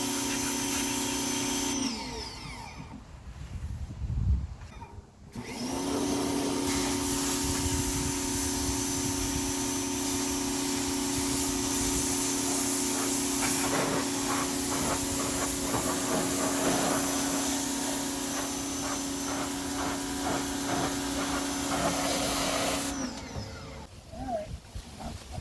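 Pressure washer spraying a car, a loud steady hiss and drone sustained for about twenty seconds after a brief start-stop, cutting off near the end, with a voice heard in the gaps.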